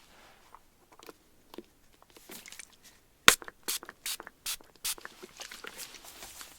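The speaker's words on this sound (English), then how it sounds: "Just gonna let it do a little bit of spray" Hair spray hisses onto hair in a series of short bursts, about six quick sprays in close succession at close range, following some quiet handling and rustling.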